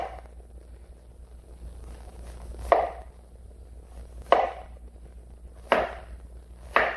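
A knife slices the edges off a breadfruit in an off-grid outdoor kitchen, four crisp chopping cuts spaced about a second and a half apart, each with a short scraping tail over faint wind.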